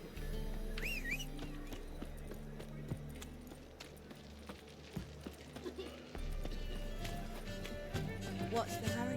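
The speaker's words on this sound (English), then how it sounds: "Maybe I should just get my horsey." A horse gallops in the video game Witcher 3, its steady clip-clop hoofbeats running under game music and ambient sound, with people talking over it.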